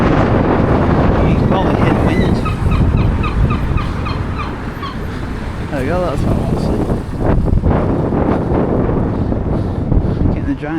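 Wind buffets the microphone outdoors on a walk into town in Blackpool, a loud continuous low rumble that rises and falls. Turkeys gobble in the background, heard in several calls partway through.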